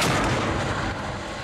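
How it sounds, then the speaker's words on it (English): A vortex cannon fires, an explosion in its base pushing out a single donut-shaped pulse of air, heard as one loud, deep boom that decays into a long rumble. "An explosion in the base of the cannon creates a single pulse of air the shape of a donut."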